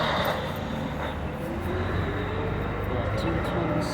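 A 2019 Setra S-Force bus drives past in the street, a steady broad engine and road roar heard close with no break, under faint background chatter.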